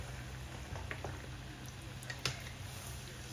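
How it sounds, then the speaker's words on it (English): Coated peanuts deep frying in hot vegetable oil, a faint, steady bubbling and sizzle with a low hum underneath and no voices. "So guys, let's deep fry our coated peanuts."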